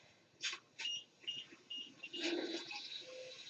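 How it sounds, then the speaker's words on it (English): Electronic beeps from a machine under test, several short separate tones in quick succession followed by a longer sustained tone, moderately loud and close, with no talking. "There's just a lot of beeping. We're gonna go past the beeping."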